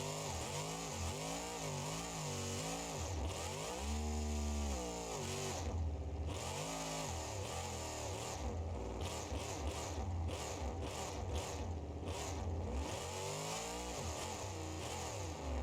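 A twincharged monster truck engine in BeamNG.Drive revs hard toward 9,000 RPM, a loud, continuous mechanical howl whose pitch sweeps up and down repeatedly, with a few abrupt cut-outs of the high whine.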